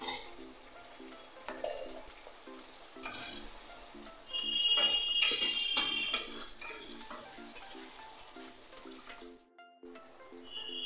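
Spice paste and water cooking down with vegetables for a mixed-vegetable dalna in a pan, heard as a soft, low sizzle with light clinks of a utensil against the pan throughout.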